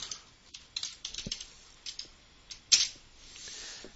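Scattered clicks of typing on a computer keyboard, a short sequence of light, fairly quiet keystrokes with uneven spacing.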